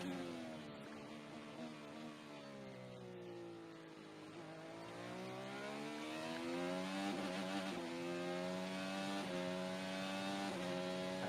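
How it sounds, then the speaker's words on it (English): Marcus Ericsson's IndyCar at the Children's of Alabama Indy Grand Prix, recorded on board: a loud, continuous engine howl that rises and falls through repeated upshifts and downshifts, with no talking. "Marcus Ericsson, the car that you are hearing on board at the moment"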